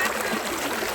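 A waterfall-fed stream at a picnic spot rushes in a steady, close, full hiss of flowing water for a brief moment.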